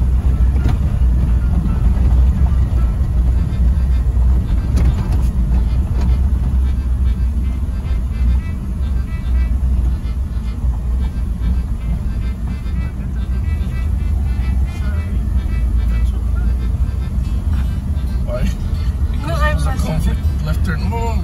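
A jeep drives along a road on the outskirts of Matanzas, its steady engine and road rumble running loud and constant from inside the cabin.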